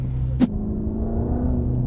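A Mercedes-AMG GT Black Series with a 730 PS engine rumbles on the Nürburgring Nordschleife, giving a steady low throbbing drone with one short sharp burst near the start.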